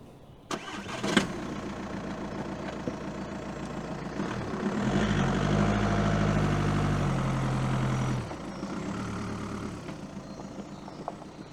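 Vehicle engine on the drive to a hunting area, a steady mid-pitched running drone that rises into a louder, deeper rumble for a few seconds before settling back.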